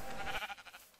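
A sheep in the video game Minecraft gives a single wavering bleat, fairly close and clear, with a trembling tail that fades out quickly.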